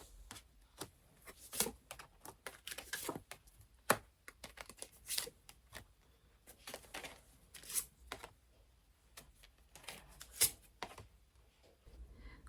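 Oracle advice cards are shuffled and drawn, producing soft, close, irregular clicks, slaps and riffles of card stock with no one talking.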